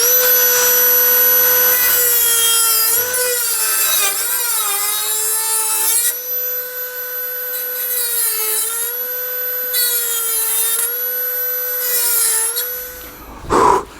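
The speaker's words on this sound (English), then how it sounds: "I'm going to cut off an old piece here that is no longer needed." A power tool cuts through an old rusty car sill panel piece, a loud continuous high whine with wavering pitch that dips as the blade bites into the metal, ending with a short clatter.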